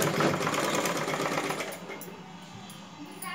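A sewing machine stitches a blouse with a close, continuous rapid whirr that eases slightly toward the end, with no talking.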